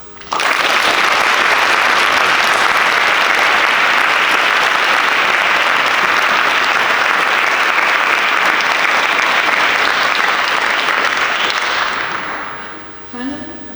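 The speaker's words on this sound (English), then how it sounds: "let us thank all of them with a round of applause" A large conference audience at a Model UN opening ceremony applauds the organizers, a loud, sustained wall of clapping lasting about twelve seconds before fading, followed by a brief spoken sound.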